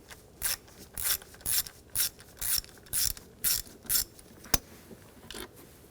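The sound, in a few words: ratchet with 10mm socket removing a bolt, BMW X5 intake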